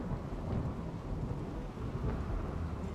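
A thunderstorm in the colony-building game RimWorld, with a dense steady roar of rain and deep rumbling thunder that continues without a break, loud and close, and no voices.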